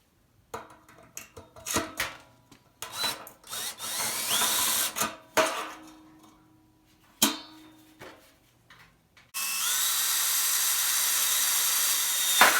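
A power drill whirs in short bursts with pauses between while drilling a washing machine drum for fire pit legs, then runs in one long steady high-pitched spin near the end, close and loud.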